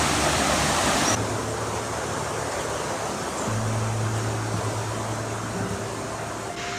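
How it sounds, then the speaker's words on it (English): A river flowing near a campsite in Espírito Santo, Brazil, a steady broadband rush heard continuously at moderate level, with faint low hums in the background and no speech. "The only thing you really hear at this place is"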